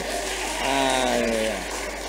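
A church congregation claps for God during an Easter worship service, a dense, loud wash of applause that swells in the middle, with voices ringing out over it.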